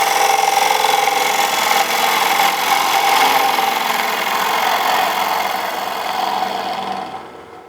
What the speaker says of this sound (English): I'm going to pick up on the heel of the gouge, find out where the tool is, and then we'll just adjust our handle angle